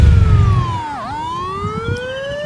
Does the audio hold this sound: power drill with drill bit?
no